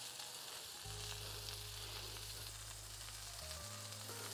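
Onions and bell peppers sizzle on a Traeger Flatrock griddle, a dense, steady frying hiss close by with a low hum underneath and no voices.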